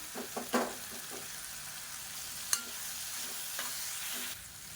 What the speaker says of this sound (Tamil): மல்லி இலை சேர்த்து நல்லா வதக்கியாச்சு